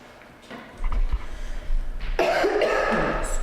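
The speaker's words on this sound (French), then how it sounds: "Excusez ma toux" A single loud, harsh cough bursts out after a moment of quiet, close to the microphone and alone with no talking, during a regional county council meeting.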